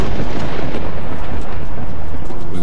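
Heavy thunderstorm over an airfield, with a loud, continuous rumble of thunder and dense rain noise filling the whole stretch without a break.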